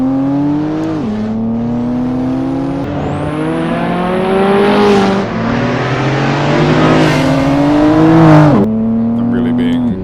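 BMW M2 Competition engine accelerating hard on a track, loud and close, its rising revs broken by sharp upshifts in a steady climbing rhythm, with a voice talking over it.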